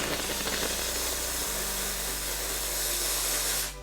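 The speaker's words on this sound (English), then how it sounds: "If instead, use a steam cleaner" A steam cleaner used on an abandoned car being rebuilt gives a loud, steady hiss of spraying steam over a low hum. It stays constant for several seconds, then cuts off abruptly at the end.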